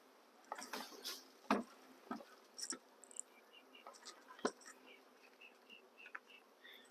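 Honey bees from a freshly captured swarm buzz around a bucket outdoors, a dense hum with sharp individual buzzes flying close past, some louder passes rising briefly above the steady drone.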